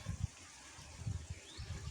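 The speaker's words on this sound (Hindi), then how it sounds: "ये पानी इधर से आ रहा है।" Irrigation water runs into a freshly sown wheat field, a low, soft gushing flow with a few rumbling surges, fairly quiet and steady, with no talk over it.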